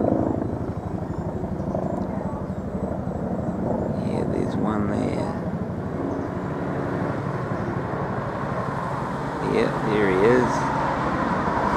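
A helicopter fighting the Christchurch wildfires drones overhead with a steady rotor rumble, while people talk nearby throughout.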